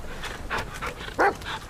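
A dog in the video game The Medium gives a few short barks and panting huffs, close and moderately loud, with one sharper bark standing out.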